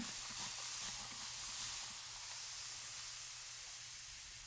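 A spray bottle mists water over a chalk transfer stencil in a few close, soft hissing bursts, steady broadband spray with a faint low hum underneath and no talking.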